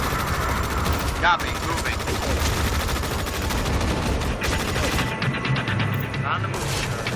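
Combat units in the EndWar video game fire rapid bursts of gunfire, dense and sustained, with short pauses, under clipped radio voices.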